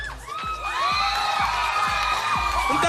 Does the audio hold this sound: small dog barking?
no